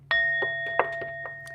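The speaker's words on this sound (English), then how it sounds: "let me ding the bell" A small bell dinged once, giving a clear sustained ringing tone that lingers and slowly decays, with faint rustling and light movement noises underneath.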